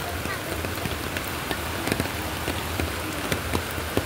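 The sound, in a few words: rain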